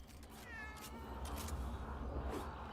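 A cat gives a short, fairly faint meow over steady background hum, with no talking.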